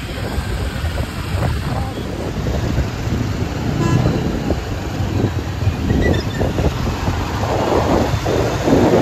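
Steady, dense rain pours down during a thunderstorm in Araku, Andhra Pradesh, heard as a continuous broadband roar with a faint low rumble beneath, close and fairly loud throughout.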